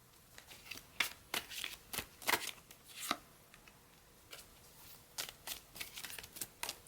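Tarot cards are shuffled and laid down, with crisp riffling bursts and sharp taps of cards set on a surface, close and fairly quiet, and no one speaking.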